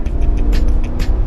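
A 2018 GMC Yukon XL's V8 engine pulls under acceleration in a brief, loud, close-up low rumble heard from inside the vehicle.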